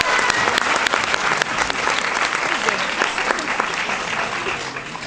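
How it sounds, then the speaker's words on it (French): An audience at a film premiere screening in a cinema breaks into sustained applause, with a few sharp louder claps near the start and a dense, even wash of clapping throughout. "Donc vous pouvez tous l'applaudir"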